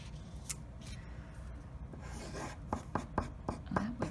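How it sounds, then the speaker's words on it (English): A pen scratches and rubs across paper, first as a soft steady drag and then as several short, brisker strokes toward the end. The sound is close and fairly clear, with no talking over it. "Draw my line."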